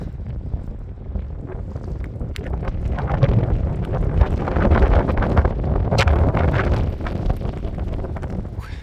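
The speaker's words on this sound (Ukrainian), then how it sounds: "Ух і вітер." Strong gusty wind buffeting the microphone beside a pike-fishing pond, rumbling and roaring in uneven surges throughout.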